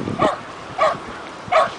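A dog barks three times at the Ambleside dog walk in West Vancouver, sharp evenly spaced single barks at moderate distance over quiet outdoor background.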